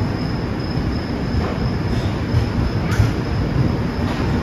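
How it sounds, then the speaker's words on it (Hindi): An Indore–Jabalpur overnight express rolls into a station platform, a steady loud rumble of wheels and carriages with faint metallic squeals drifting over the low roar. "ट्रेन लग रही है।"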